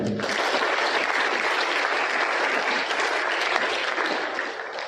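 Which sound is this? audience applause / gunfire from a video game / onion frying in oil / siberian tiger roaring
audience applause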